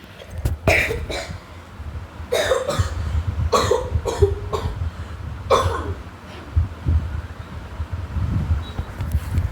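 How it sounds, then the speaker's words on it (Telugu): A man coughs hard in several short, harsh fits, some doubled and loud and close, with quiet pauses between them and no talking. "కొంచెం కాఫ్ చాలా గట్టిగా వస్తుంది గైస్"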